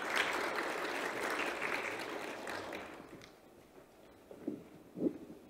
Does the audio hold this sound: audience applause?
yes